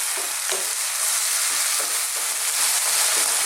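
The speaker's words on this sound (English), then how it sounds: "Let's just throw this around in our pan." Chicken and mushroom fried rice with fresh chilli stir-frying in a hot wok over high heat: loud steady sizzle with rhythmic tossing and scraping strokes repeating roughly every half second, no talking.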